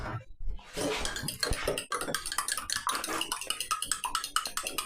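A utensil whisks milk into eggs in a bowl for eggy bread, a quick run of close clinking, tapping strokes against the bowl with a wet swish underneath.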